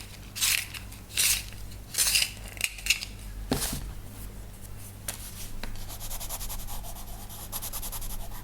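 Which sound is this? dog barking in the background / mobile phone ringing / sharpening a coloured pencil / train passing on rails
sharpening a coloured pencil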